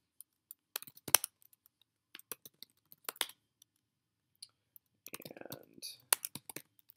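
Sharp isolated clicks of a computer mouse and short bursts of keyboard typing, close and quiet, with brief pauses between clusters of taps.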